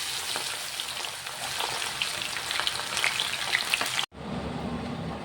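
Squid pieces fry in hot oil with a dense, crackling sizzle that runs steadily, then cuts off abruptly and resumes as a softer, lower bubbling.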